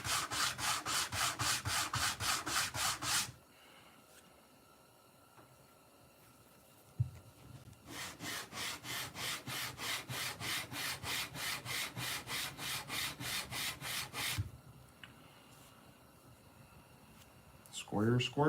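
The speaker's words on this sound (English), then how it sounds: "Then when you burnish, everything's nice and smooth." Leather slip edge being burnished: two long runs of fast, rhythmic rubbing strokes, close and even, with a quieter pause between them where a voice speaks briefly.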